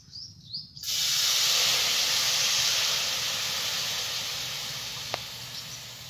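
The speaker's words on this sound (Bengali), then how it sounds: "কড়াইটা গরম হয়ে গেছে, আমি জল দিয়ে দিচ্ছি।" Water poured into a hot kadai erupts in a loud, sudden hiss and steam that slowly fades over several seconds, with quiet kitchen sounds before it, while making aloo kulcha.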